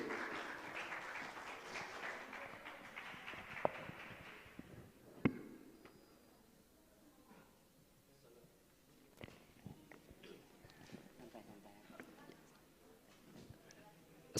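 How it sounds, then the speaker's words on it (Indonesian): Audience applause at a session of an Islamic scholarly conference, a broad burst of clapping for the first few seconds that fades into scattered handling noises and quiet room sounds, with some talk. "Tepuk tangan dulu."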